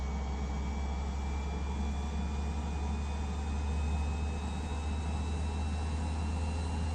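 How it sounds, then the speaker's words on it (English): Steady airplane engine drone from Microsoft Flight Simulator 2024, a constant throttled-up hum with a faint high whine that slowly rises, heard alone and at moderate level. "this plane sounds good as hell"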